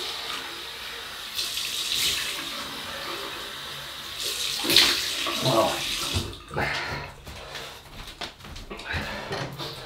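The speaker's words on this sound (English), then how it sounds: "Cold water rinse." Cold water runs from a tap into a sink during a wet shave with a double-edge razor, a steady close splashing stream for several seconds that breaks into intermittent splashes and handling noises.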